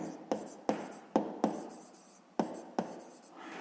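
A pen writes on paper during a sixth-grade math exercise, giving six quick scratching strokes, each a sharp tap trailing into a soft scrape, close and quiet, with no talk.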